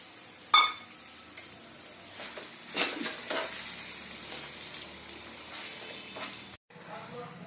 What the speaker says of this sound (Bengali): আমি আলু সেদ্ধটা পুরোপুরি দিয়ে দিলাম